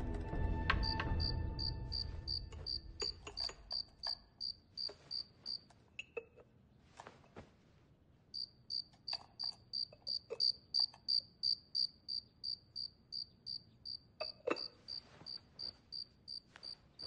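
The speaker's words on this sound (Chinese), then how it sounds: "个头这么小，又是紫蛐蛐" A small purple cricket chirping in quick, evenly pulsed trills that stop and restart, close and clear against near silence, with a few faint rustles and knocks in between.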